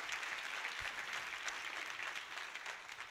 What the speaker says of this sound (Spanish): Dale más fuerte ese aplauso al Señor, por favor.